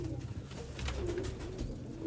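A teddy pigeon coos softly in low, rolling murmurs over a steady background hum.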